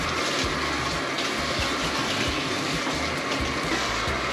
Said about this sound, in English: their system actually puts soap and water out at the same time